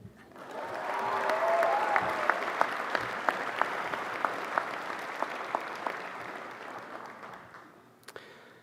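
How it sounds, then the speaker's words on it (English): Applause from the audience at a 2024 commencement ceremony swells quickly into a full, fairly distant wash of clapping, with individual claps standing out as it gradually fades away. "Can we get a round of applause for our support system today?"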